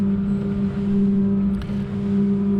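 Boat outboard engine held at high revs near 6000 rpm during a propeller test run, a loud steady hum with a strong constant tone and rushing water and wind beneath, heard close and alone.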